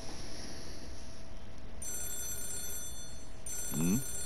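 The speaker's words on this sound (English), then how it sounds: "Is that the phone?" Telephone ringing in the Yakuza 0 video game, a steady electronic ring that starts partway through over game background ambience, with a short voice near the end.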